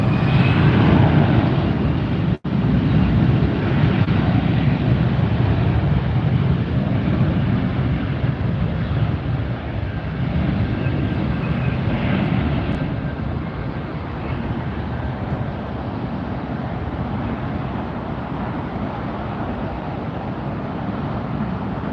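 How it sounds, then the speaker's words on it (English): A Lufthansa Boeing 747 taxiing at LAX, a steady loud jet engine roar with broadband rumble holding throughout, no voices. "Yes, the Lufthansa 747 is on the move."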